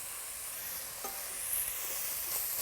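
Mushrooms frying in a pan with a steady soft sizzle and hiss throughout, with a couple of faint stirring clicks partway through, no voices.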